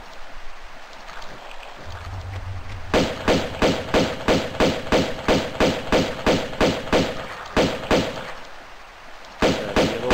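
Rapid pistol gunshots in a fishing video game, a long regular volley of sharp loud cracks about twice a second, a short pause, then more shots resuming.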